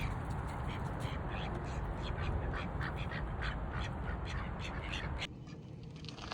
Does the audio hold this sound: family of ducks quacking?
yes